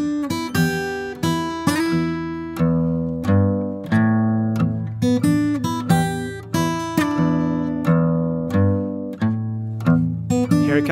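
A blues guitar fingerpicked slowly through a verse variation, with a steady thumbed bass and plucked treble notes ringing clearly, solo and close.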